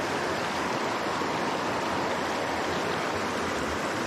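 Rushing white water of river rapids in bear country, a steady broadband roar that stays loud and unbroken throughout, with no voices.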